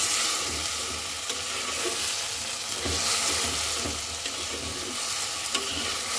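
Spice masala for a potato and fish curry fries and is stirred in a pan after a little water is added. A steady, close sizzle runs with scraping stir strokes throughout, with no talk.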